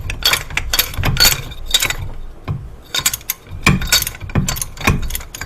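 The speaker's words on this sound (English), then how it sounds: "got a 1/2 inch socket, chrome, keep it thin walled, 1/2 inch ratchet, and just a short piece of pipe on top of the ratchet for some extra leverage" A 1/2 inch chrome ratchet fitted with a thin-walled 1/2 inch socket and a short pipe extension for leverage, loosening a bolt on a 240SX S13 rear hub during a 5-lug conversion, clicks in repeated close, loud bursts of rapid ratcheting.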